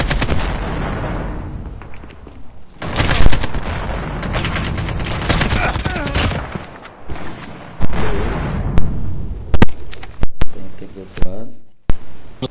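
Gunfire from Call of Duty Mobile in a duo versus squad battle royale match, with repeated bursts of automatic fire and sharp single shots, some loud and close, others more distant, while players talk over it.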